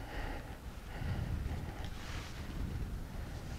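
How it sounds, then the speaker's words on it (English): Steady desert wind blowing across open sand dunes under a dark night sky, buffeting the microphone with a constant low rumble and rushing gusts, loud and close throughout, with no talking. "you can probably hear the wind"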